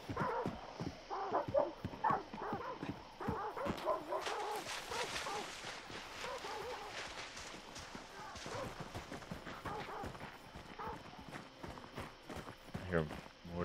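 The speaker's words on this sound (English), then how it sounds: "I hear more dogs, I think, up there." Distant dogs bark faintly in the video game Hunt: Showdown, mixed with footstep-like thuds, clip-clop sounds and a player talking over them.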